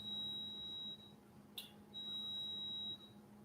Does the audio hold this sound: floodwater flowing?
no